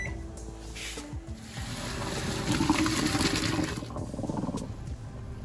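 Cooked pasta being drained through a new kitchen strainer, water pouring and splashing steadily for several seconds at close range, swelling in the middle and tapering off, with no talking.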